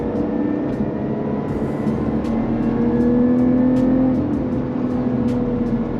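A 2021 Lotus Evora GT sports car engine drones steadily from inside the cabin while driving, a loud continuous hum holding one gear with a slight swell in pitch midway.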